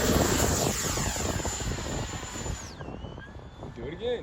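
Electric ducted fan model jet flying with a high, steady fan whine that drops sharply in pitch as power is cut for landing. The whine sits over wind rumble.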